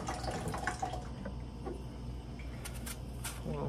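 An apple is rinsed under a running kitchen tap, producing a faint, steady wash of flowing water with a few brief louder splashes, with no talking.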